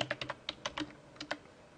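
Quick bursts of keystrokes on a computer keyboard while a recording name is entered in speech-analysis software, about a dozen close, crisp clicks in uneven clusters over roughly two seconds in a quiet room.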